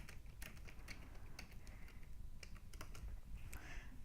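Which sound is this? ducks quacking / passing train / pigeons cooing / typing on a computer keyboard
typing on a computer keyboard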